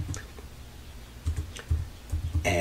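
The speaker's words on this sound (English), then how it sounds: "So we type in this command" Computer keyboard keys tapped out in short irregular bursts while a command is entered on a Linux system, fairly close and alone, followed by a brief louder clatter at the end.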